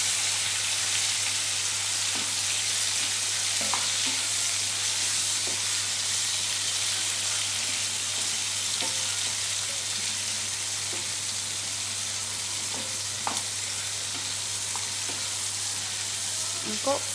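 Okra coated in masala fries in oil in a kadai over a low flame, producing a continuous, even sizzle with occasional light crackles and a low steady hum underneath.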